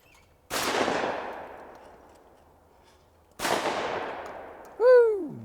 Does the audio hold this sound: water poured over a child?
no